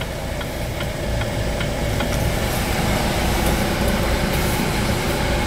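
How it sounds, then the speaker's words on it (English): Setra 515 HD Comfort Class high-decker coach bus from 2023, its engine running steadily just after ignition, a continuous low rumble with faint ticking, heard from inside the cabin with no talking. "Now it's ignited, you can hear the engine"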